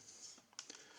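Keys on a computer keyboard from a discarded ultrasound machine are pressed in a few faint, sparse clicks, quiet and close with no talking.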